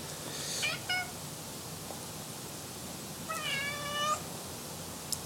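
A cat meows indoors: a short mew near the start and a longer, rising-falling meow around the middle, both fairly faint over steady room hiss, with no talk.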